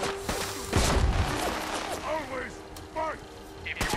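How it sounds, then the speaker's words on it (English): Gunfire in the video game Fallout 4: Far Harbor, a few sharp shots cracking out among layered game sounds and a low background hum, with a person talking over it. "Where am I getting shot from now?"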